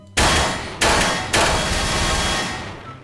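Gunfire in Garry's Mod, three loud, close gunshots each followed by a long ringing decay that overlaps the next, trailing off at the end.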